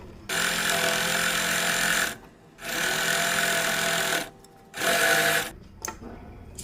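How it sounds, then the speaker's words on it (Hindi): A sewing machine runs in three short bursts, stitching a finishing seam along the edge of Afghani salwar fabric, with brief pauses between runs and no one speaking. "यहाँ से एकदम किनारे से फिनिशिंग के साथ सिलाई लगानी है"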